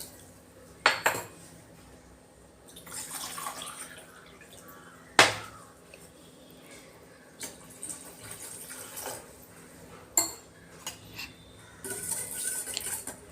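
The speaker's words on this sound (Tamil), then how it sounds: "இப்போ இதுக்கு ஒரு 2 டம்ளர் தண்ணி ஊற்றுறேன்" Two tumblers of water are poured into soaked ingredients for mango jelly in a home kitchen, with splashing pours set apart by sharp clinks of glass and utensils, and no talking.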